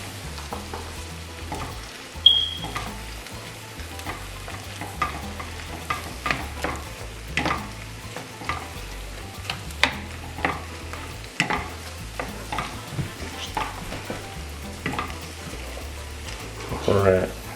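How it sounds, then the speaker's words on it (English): Poblano chiles sizzle and toast in a hot pan, with a steady fry under repeated clacks and scrapes as they are stirred around, and a voice speaks now and then. "Let's move these around, make sure they're getting toasted pretty good"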